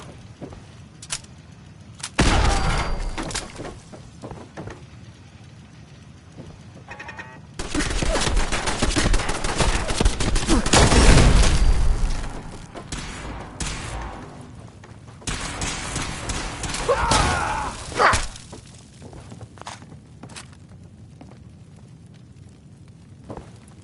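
Gunfire in a PS4 shooter game, bursts of rapid shots and booms in several loud stretches separated by quieter gaps with scattered single shots.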